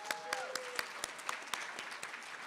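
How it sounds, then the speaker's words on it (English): An audience at a university student service and leadership awards ceremony gives scattered, fairly faint applause, individual claps standing out over a soft crowd bed, with a brief voice at the start. "Give yourselves an applause."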